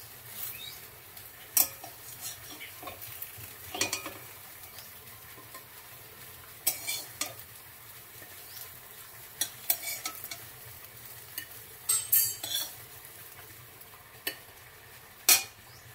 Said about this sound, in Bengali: বড়া আমার লাল লাল করে ভাজা হয়ে গেছে